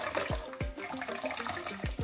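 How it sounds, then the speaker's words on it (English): Water poured bit by bit into a homemade juice mixture for an African aphrodisiac drink, a close, steady splashing pour with repeated low gurgling glugs and bubbling over about two seconds, with no talking. "To get more of the juice, you add water bit by bit,"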